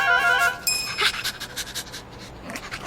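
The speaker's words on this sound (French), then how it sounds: "qu'est-ce que c'est que ce chien?" A cartoon dog pants with quick, steady breaths, fairly close and clear, alone without any talk.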